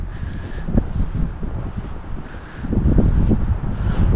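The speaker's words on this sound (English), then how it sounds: "A little windy out here today." Wind blowing outdoors beside a flood wall after winter storms, a steady, loud rushing buffet on the microphone that swells and gusts throughout, with no one speaking.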